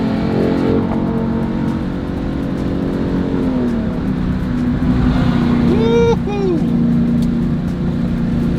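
A Dodge Challenger Hellcat Redeye engine revs and accelerates with a steady, loud, close roar throughout, and a rising whine near the end while a man whoops once over it.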